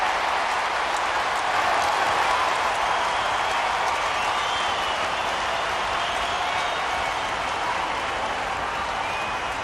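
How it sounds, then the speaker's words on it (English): A large stadium crowd roars steadily and loudly throughout an AFL night match between Collingwood and Sydney Swans in 2008, a dense continuous wall of cheering with no break. "They'll be cheering again."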